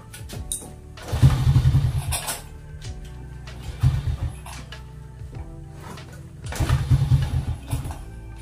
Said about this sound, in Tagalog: Pag ini-start, pinapadyakan sinisinok yung andar niya